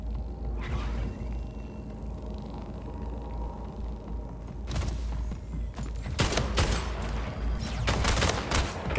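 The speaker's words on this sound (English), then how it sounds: "Somebody's shooting through there." Rapid bursts of video game gunfire in Splitgate, loud and close, with sharp repeated shots clustering in the second half over a steady low background rumble.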